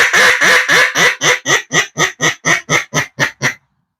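A duck call blown in a steady series of about thirteen short, raspy quacks, low and fairly loud, close by with no talking.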